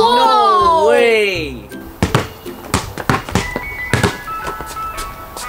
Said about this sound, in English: I think it's the ice cream truck!